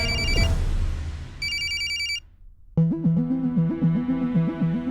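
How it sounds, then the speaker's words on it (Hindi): A phone rings in repeated electronic trills, then a melodic ringtone plays steadily and fairly loud, with a brief gap between the ringing patterns. "अरे फोन उठा ले।"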